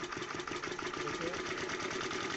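A diesel engine, just started, runs at a steady idle with a continuous dense chugging, fairly near and even in level throughout.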